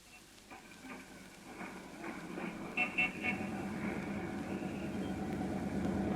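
Bus and street traffic effect in a 1936 radio drama: a steady engine rumble with car horns honking several times near the middle, while voices talk underneath.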